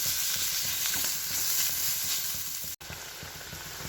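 Large prawns frying with spice paste in a pan give a close, continuous sizzle with faint stirring scrapes, broken by one brief dropout, and no talk.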